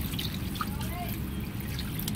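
Water is poured from a pitcher into a cooking pot of native chicken tinola soup, a steady close trickling and splashing that runs throughout.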